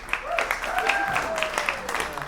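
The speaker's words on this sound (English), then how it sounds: "Please give them a warm round of applause." An audience at a live debate show claps with moderate force, individual hand claps standing out in a loose, uneven patter with a faint tonal hum and some background murmur running underneath.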